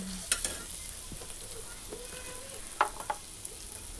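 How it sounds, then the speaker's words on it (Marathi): Bitter gourd coated in masala fries in a pan, a faint steady sizzle broken by a few sharp spatula clicks and scrapes, close and quiet without speech. "आपल्याला भाजी व्यवस्थित फ्राय करून घ्यायची आहे."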